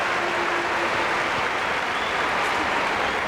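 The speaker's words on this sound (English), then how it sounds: "Also the applause for LaFrance, who goes out of the ball game." Basketball arena crowd at a 1996 Kansas vs. Nebraska college game applauding as a player leaves the court; steady, dense clapping and cheering fills the whole stretch without pause.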